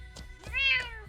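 A cat gives one clear, rising meow near the middle, with faint soft noises around it.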